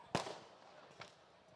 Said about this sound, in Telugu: సార్ మీకు రీ రికార్డింగ్లో ఇంకొన్ని టపాకాయలు పేలుతూనే ఉంటాయి.